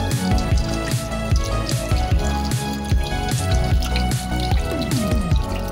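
A bata fish being washed by hand in water, with continuous splashing, dripping and squishy sloshing close up, steady and moderately loud throughout.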